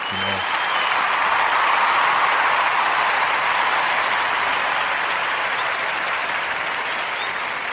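Steady audience applause during a classic conscious Sunday music show, a dense, even wash of many hands clapping that holds loud and unbroken throughout, with no voices standing out.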